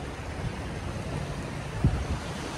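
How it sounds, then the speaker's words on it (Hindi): Surf and wind along the sea at Hawkes Bay, Karachi, where big waves roll in; a steady low rush of water and wind fills the clip, with one brief louder thump near the end and no talk. "बहुत बड़ी बड़ी लहरें उगती हैं इसके अंदर"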